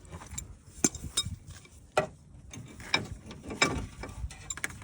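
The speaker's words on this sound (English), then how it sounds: "once that's hand tightened, you're gonna wanna grab your wrench" A ratcheting wrench tightens a pitman arm nut on a vehicle's steering, making close, irregular clicking ratchet strokes and metallic clanks over a few seconds, with no talking.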